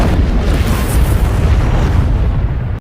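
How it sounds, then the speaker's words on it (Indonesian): A bomb blows up a research laboratory in a massive, close explosion, a deep rumbling roar with dense low-end crackle that sustains for a few seconds before cutting off abruptly. "sebuah bom yang meledakkan laboratorium penelitiannya"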